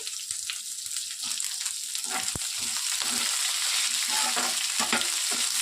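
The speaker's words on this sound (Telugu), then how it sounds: "కట్ చేసి పెట్టుకున్నటువంటి 2 మీడియం సైజ్ ఆనియన్స్ని ఇందులోనికి వేసేస్తున్నానండి" Two medium chopped onions and a little tamarind sizzle in a hot pan for ivy gourd fry, with a steady crackling hiss and occasional stirring scrapes close by.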